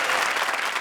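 Dense, loud applause from a studio audience at a comedy show, a continuous wash of many hands clapping with no gaps and no voices standing out.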